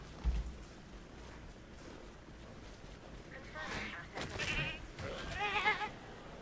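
A goat bleats several times in a dinosaur video game as a raptor attacks it. The cries are wavering and moderately loud, clustered toward the end, over a low background.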